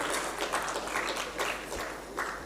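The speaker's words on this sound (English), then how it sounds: "Let's have a round of applause for Professor Andrea." Audience clapping for a speaker at the ACCD 2025 conference: steady, full applause from a crowd with no pauses, clear and fairly close.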